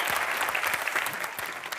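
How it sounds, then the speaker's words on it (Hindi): A studio audience at a Comedy Nights With Kapil taping applauds Raju Srivastava with steady, dense clapping that stays even and continuous for a moment. "श्रीवास्तव शर्मा जी जोरदार तालियां श्रीवास्तव जी के लिए।"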